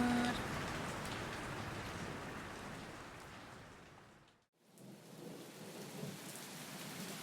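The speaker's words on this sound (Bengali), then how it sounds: "কিন্তু তখনও সমানভাবে বৃষ্টি ঝরছে আর ঝরছেই।" Steady heavy rain pours with rolling thunder, loud and continuous, broken by a brief silent gap before the downpour resumes.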